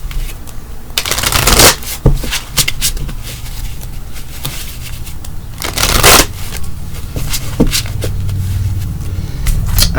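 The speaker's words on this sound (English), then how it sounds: "I'm going to give this just a couple more shuffles" Tarot cards are shuffled by hand close to the microphone, with a couple of louder riffling bursts among softer card slides and taps, no talking.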